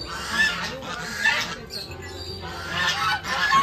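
Ducks and geese honk and squawk in repeated bursts nearby, with a noisy bird-enclosure background of an exotic bird farm with turkeys and pheasants.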